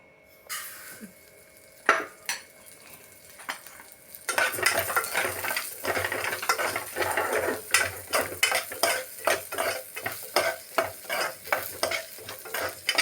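Moong dal being dry-roasted in a pan for sweet pongal, starting quiet with a few clinks, then a steady sizzle with rhythmic spatula scrapes and stirring strokes, close and moderately loud, no talking.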